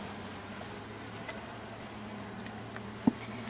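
Honeybees buzz around the hive frames on a farm as a faint, low, steady hum, with a single soft tap near the end.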